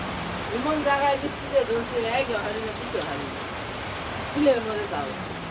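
Heavy rain falling on a rainy village morning, a steady close wash of drumming drops running throughout while voices talk over it.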